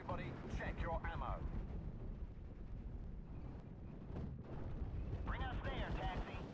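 Gunfire and artillery rumble through a Steel Division: Normandy 44 battle, a dense, steady roar of distant shots and blasts running throughout, with a voice speaking briefly near the start and again toward the end.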